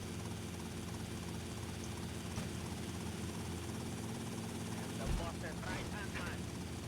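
A helicopter in GTA Vice City during a pop-up race, its steady rotor and engine drone holding throughout at moderate level, with a voice talking over it.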